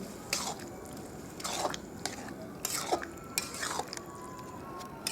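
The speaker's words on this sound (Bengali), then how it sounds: "এবার ভালো করে ফুটতে দেব নাড়াচাড়া করে আর একটু জল দিয়ে দেবো" Ghugni with mutton fat being stirred in a pot as it boils, with a series of soft scraping and clinking strokes of a spoon against the vessel, close and fairly quiet, with no talking.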